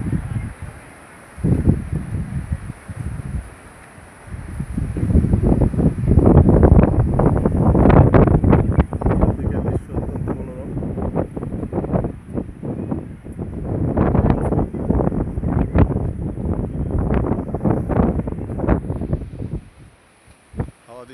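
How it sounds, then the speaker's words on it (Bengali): Strong seaside wind buffets the microphone at Dona Paula, where a river meets the Arabian Sea, roaring in loud gusts and surges almost continuously throughout. "হাওয়া দিচ্ছে ভালোই।"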